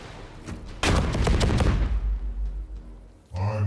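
Weapon barrage in the strategy game Chaos Gate: a dense burst of overlapping gunfire and heavy impacts erupts loud after a brief quiet, rumbling on for over two seconds before fading, then another low blast kicks in at the end.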